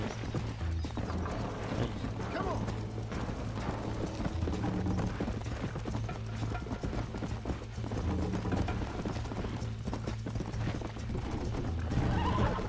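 Horse hooves in the Red Dead Redemption video game clip-clop in a steady, continuous gallop, with a horse whinnying along the way.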